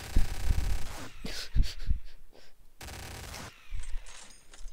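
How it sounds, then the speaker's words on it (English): Machine gun fire in Garry's Mod on a horror map, heard as loud, dense bursts of rapid shots that come and go, with quieter stretches between them. "Machine gun."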